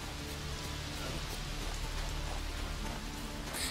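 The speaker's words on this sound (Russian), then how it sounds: "дождь здесь смотрится довольно странно" Steady rain pattering on a surface in the video game The Witcher 3: Wild Hunt, a continuous dense hiss with scattered drop impacts, no voices.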